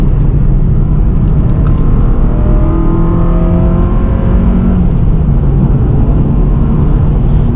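A 7th-generation Honda Civic Si engine drones loudly from inside the cabin as the car is driven around a corner, a steady rumble with rising and falling revs and no talking.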